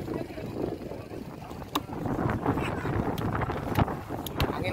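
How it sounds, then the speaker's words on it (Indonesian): Strong wind blows across open sea from a boat, a constant rough buffeting roar against the microphone, with scattered knocks and faint voices underneath. "Angin kencang."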